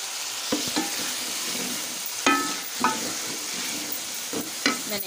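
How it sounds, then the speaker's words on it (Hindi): Ginger, garlic and coriander paste frying in a hot pan, a steady soft sizzle with a few sharper crackles and stirring scrapes, close up and alone with no talk. "इसमें मैंने जो पेस्ट बनाया है अदरक और लहसुन धनिया का, वो भी मैं ऐड कर लूँगी।"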